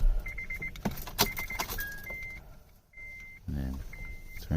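A key jangles and turns to the on position in a 2008 Acura TL, followed by a series of electronic chimes and beeps from the dash, close and moderately loud, with a brief rumble near the end.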